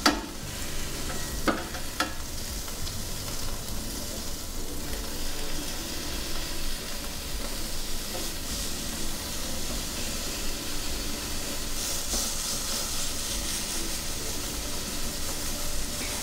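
A steak sizzles steadily on an indoor grill while being pressed down, a continuous close hiss and crackle with occasional louder spits and light scrapes, no talking.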